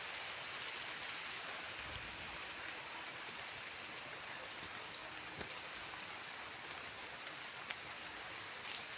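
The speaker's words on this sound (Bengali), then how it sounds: "তো বৃষ্টি হচ্ছে আজকে" Rain pours steadily over a large courtyard lined with guava and jackfruit trees, a soft, even hiss of drops that continues unbroken, faint and distant with no voices.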